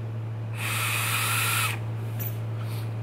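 A Reload X RDA vaporizer from Reload Vapor gives a single hissing, whistling rush of airflow while being drawn on, lasting just over a second, followed by faint clicks and a steady background hum.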